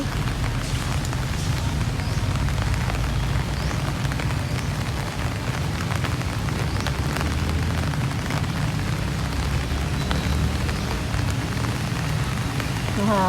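Steady rain pours down outdoors across a town plaza in Tubigon, a dense, continuous hiss of drops on hard surfaces that stays loud and even throughout.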